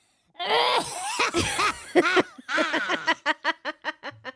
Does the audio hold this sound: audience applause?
no